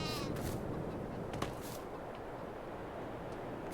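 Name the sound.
sheep bleating in a video game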